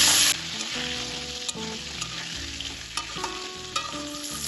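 Pointed gourd (potol) frying in hot oil with salt and turmeric, a steady close sizzle broken by several sharp clinks and scrapes of a spatula stirring against the pan.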